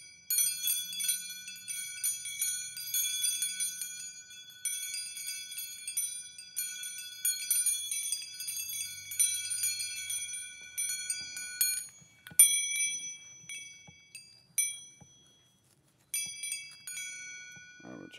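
Small bells from a set of meditation chimes ring one at a time in clear high tones, each strike lingering, spaced out and quiet, then a few softer clinks and a brief pause near the end.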